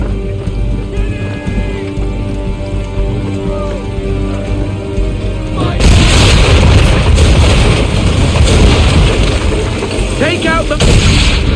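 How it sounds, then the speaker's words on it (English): Ship swivel guns in Assassin's Creed III fire on powder barrels, setting off loud cannon-like booms and a dense, sustained barrage of blasts and crackling explosions that fills the second half over constant battle noise. "Now give the swivel guns a turn."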